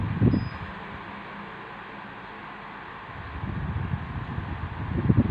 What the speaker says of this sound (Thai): เสียง ความเร็วของพัดลมนะครับ ก็จะเบาลงนะครับ